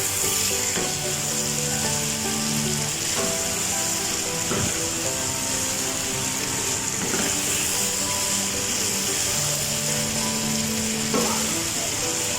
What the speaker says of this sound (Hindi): गरम मसाला ऐड करेंगे, मिक्स करेंगे और चूल्हा जो है वो बंद कर देंगे।